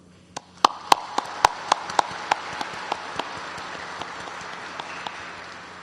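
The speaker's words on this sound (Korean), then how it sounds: "대통령으로서 박수를 보냅니다" A few scattered claps after a presidential speech at a Hyundai future car industry event, a dozen or so sharp, distinct hand claps spaced out over a low hall hum, thinning and fading toward the end.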